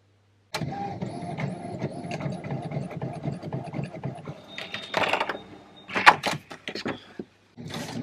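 An inkjet-style home printer runs a print job of Christmas bookmark designs, a steady mechanical whir with repeated carriage passes and clicks, louder rattling bursts near the end before it stops.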